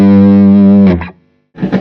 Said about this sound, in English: So let's show without the reverb and tremolo first. So just the Jubilee Silver Overdrive.